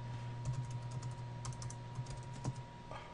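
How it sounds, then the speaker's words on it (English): Someone types on a computer keyboard, a quiet run of close keystrokes with a few louder taps against a faint background hum. "And then let's type in username,"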